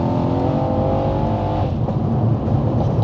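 An 800 bhp biturbo Mercedes C63 AMG accelerates hard, its loud engine note rising steadily, then a quick gear shift drops the pitch and the pull continues.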